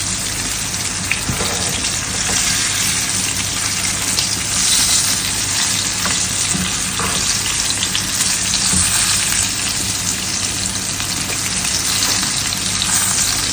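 Chicken pieces for chicken piccata frying in hot oil, a loud, steady, close crackling sizzle that continues throughout without a break.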